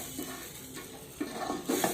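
Rice for paneer pulao being stirred and fried with other ingredients in a pot, giving a faint sizzle broken by soft scraping strokes of a spoon near the end, close and quiet.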